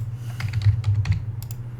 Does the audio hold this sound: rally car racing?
no